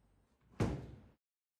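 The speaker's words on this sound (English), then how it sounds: "Close and lock the room door." An apartment room door is closed, a single close thud that fades over half a second, with a faint knock just before and silence after.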